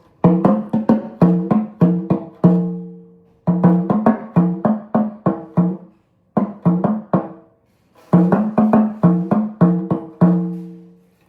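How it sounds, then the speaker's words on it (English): A not-yet-humidified drum is struck with a padded stick in quick runs of soft-edged hits, each run ending on a ringing, resonant stroke, with short silences between the groups. "if I beat it with the padded stick, it gives me this"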